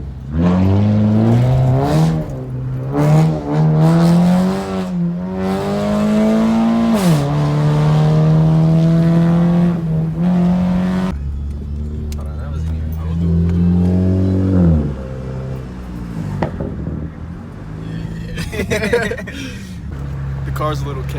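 A car revs hard at a casual outdoor car meet, its engine climbing and falling repeatedly with crackling exhaust pops, loud and close, while people talk around it.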